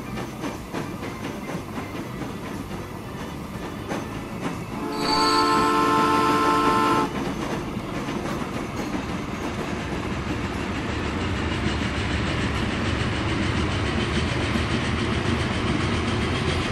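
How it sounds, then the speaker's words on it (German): A train in the Transport Fever video game rumbles steadily with a continuous rolling roar, and a harmonic horn blast sounds for about two seconds partway through before the running noise carries on alone. "Schön schnell der Zug"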